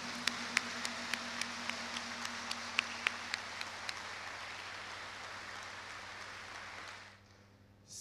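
Faint, distant applause from an audience at a university address in Haiti: a steady, even wash of clapping with a few sharper claps standing out, holding for about seven seconds before abruptly dropping away.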